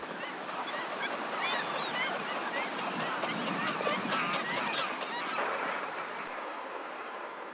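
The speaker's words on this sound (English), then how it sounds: "Doñana's marshlands are the main winter location for tens of thousands of geese who arrive fleeing the icy lands in the north" A large flock of wintering geese honks continuously in the Doñana marshlands, a dense, far-reaching chorus of overlapping calls with no talking.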